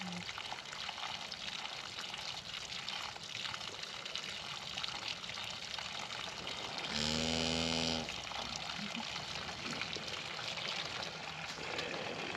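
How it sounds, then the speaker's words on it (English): A pig laps water from a bucket in a pig pen, a short burst of wet, rhythmic slurping and splashing close by, set against steady outdoor background noise. "She's drinking the whole bucket full of water there."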